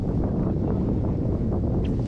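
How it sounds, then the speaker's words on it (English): Strong wind gusts buffet the microphone while bass fishing on tidal water, a rough continuous rushing roar with no other clear sounds. "Man, this wind is something fierce today."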